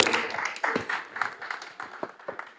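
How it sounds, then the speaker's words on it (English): An audience at a real estate gathering claps for a woman being recognised, a fairly faint, scattered round of clapping with irregular individual hand claps that thins out toward the end. "Can we give her a clap, please, guys?"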